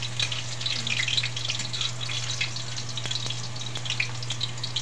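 Garlic and onion sautéing in a pan for a mussel dish, a continuous crackling sizzle with scattered pops and a few sharp utensil taps, fairly close and without talk.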